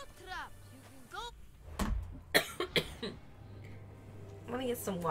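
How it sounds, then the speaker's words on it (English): A person coughs and clears their throat in a few sharp bursts, mixed with voice sounds and background noise from Assassin's Creed Odyssey. "Why am I coughing?"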